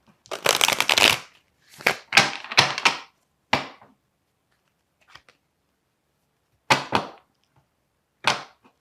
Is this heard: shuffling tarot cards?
yes